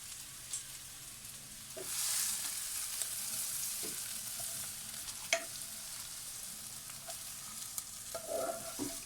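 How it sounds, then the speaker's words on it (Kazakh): Fried vegetables are scooped from a pan into borscht broth. The faint, soft sizzle runs under occasional scattered clinks and scrapes of a utensil, and no one speaks. "Мінекей жаңағы қуырған біздің көкөністерімізді енді осының үстінен саламыз"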